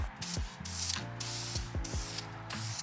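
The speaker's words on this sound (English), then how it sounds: "I'm just going to be using a sandable spray primer for this" Short bursts of hissing sandable spray primer from an aerosol can, several in quick succession, with faint clicks and handling noises between them.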